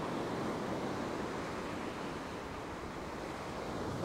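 Ocean surf rolls onto a beach on a northeast wind, a soft, continuous wash of waves with a faint breezy rumble and no voices.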